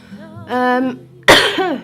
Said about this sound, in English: the coughing's getting slightly worse